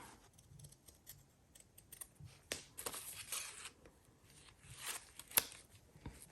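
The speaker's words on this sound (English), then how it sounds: "So I'm going to cut out these wings." Scissors snip out paper butterfly wings for a vintage-style journal page, a string of quick crisp cuts and rustles that bunch into denser bursts partway through.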